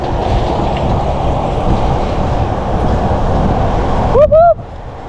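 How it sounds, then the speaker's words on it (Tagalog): Big trucks roll past on a road beside a cyclist on a long solo ride from Manila to Bikol, a dense steady traffic roar filling the scene, with a brief rising squeal near the end. "Ang lalaki ng truck."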